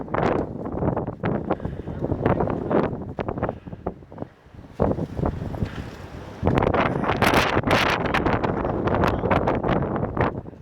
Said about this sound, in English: Just wind.